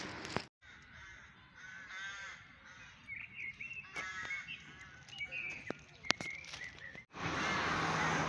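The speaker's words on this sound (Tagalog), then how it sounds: "Ang daming uwak doon sa puno." Several crows in a tree with nests caw repeatedly from a short distance in Croatia, overlapping harsh calls amid other birds and light background noise.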